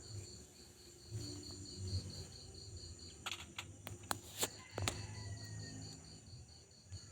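Crickets chirping in a steady, evenly pulsed trill heard faintly in the background, joined midway by a few sharp clicks and knocks near a motorcycle being worked on.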